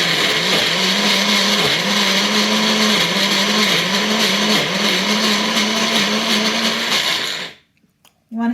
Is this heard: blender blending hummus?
yes